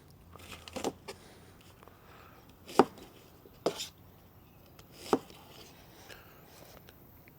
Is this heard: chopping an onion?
yes